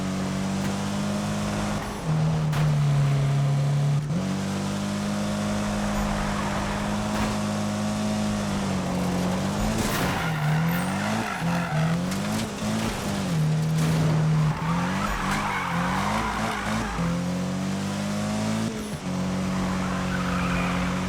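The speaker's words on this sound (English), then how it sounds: "why are you drifting so well on those turns?" Car engine revving and shifting through gears in Need for Speed 2015, with tires squealing as it drifts through turns; a loud, continuous racing mix with no voices.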